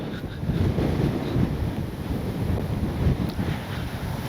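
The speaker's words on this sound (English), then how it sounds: "Dang, it's windy" Strong wind over a grass field in Kansas buffets the microphone in a continuous low roar, gusting and rumbling without letup.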